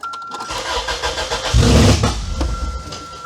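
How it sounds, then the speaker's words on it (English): An old Toyota engine with its wiring pulled out cranks for about a second, then catches with a loud rough roar and settles into a running idle, close by with a high whine in the background. "Let's see if this thing's gonna fire up."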